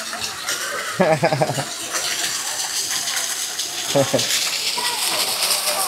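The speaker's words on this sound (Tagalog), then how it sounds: "ito lumalabas yung tubig" Cold, clear spring water pouring out into a swimming pool at Bato Spring in San Pablo, Laguna, a steady splashing gush heard nearby with people talking and exclaiming over it.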